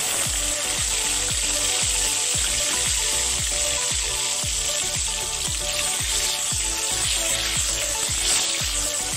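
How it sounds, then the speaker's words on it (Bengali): Green chilies dropped into hot oil in a home kitchen pan, a loud dense continuous sizzle and crackle with steady rhythmic spattering throughout, close up and without talk. "এই যে তেল এখন গরম হয়ে গেছে, কাঁচা লঙ্কাগুলো দিয়ে দিচ্ছি।"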